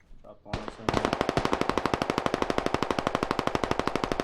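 Sustained automatic gunfire in the video game Squad on the Al Basrah map, a loud rapid burst of evenly spaced shots running continuously after an opening blast.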